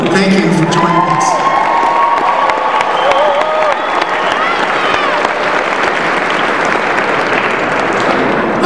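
Commencement audience at a university agriculture graduation cheering and applauding loudly, a steady roar of clapping with whoops and shouts throughout.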